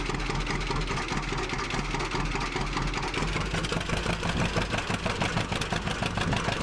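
A John Deere 620 tractor engine in Farming Simulator 17 hauling a 6-row corn planter, a steady mid-pitched idling chug that carries on without a break, close and fairly loud.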